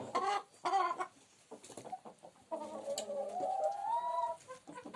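Hens cluck in short repeated bursts, then one gives a longer drawn-out cackle, close and fairly loud with faint farmyard ambience.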